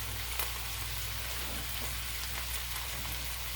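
Chinese food cooking in a pan, giving a continuous, even sizzle and crackle that is steady and close throughout, with no talking.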